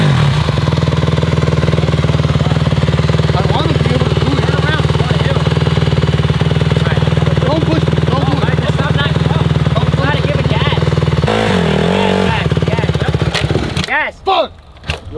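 A dirt bike engine runs loud and close in a steady, buzzing idle with small revving swells, then cuts out near the end, with people talking over it.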